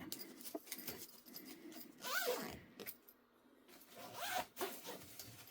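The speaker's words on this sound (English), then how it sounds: "Zippers on both sides." A zipper on a low-cost mesh spray booth is pulled in two quick separate runs, a soft close ripping sound with small rustles between, faint and alone.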